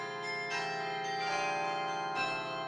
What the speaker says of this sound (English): We have an amazing Carillon.